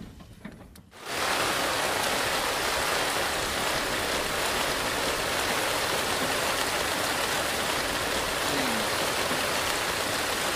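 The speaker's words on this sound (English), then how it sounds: "So it's raining," Steady, heavy rain pours down at sea on the Pacific in a dense continuous hiss after a brief quieter moment at the start.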